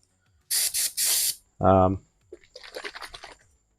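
Green spray paint hisses from an aerosol can onto a retro RC10 radio-controlled buggy body in several short close bursts, with a brief voice cutting in between, then a softer, sputtering final spray.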